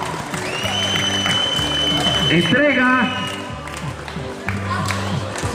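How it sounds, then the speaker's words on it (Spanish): A crowd applauds at the 2018 San Juan Lajarcia awards ceremony as first place is announced. Steady clapping runs under loud music and an announcer's voice, with the sound staying fairly constant throughout. "¡Felicidades, el aplauso!"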